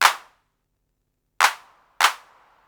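A TR-808 style drum machine hand clap with its decay stretched long, struck three times: once, then after a pause two more in quick succession, each a bright snap trailing off, close and alone.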